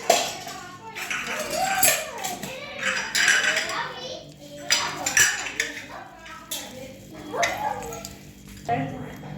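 Bhajiya batter is mixed in a bowl, with irregular clinks and scrapes of a utensil against the dish and children's voices chattering nearby.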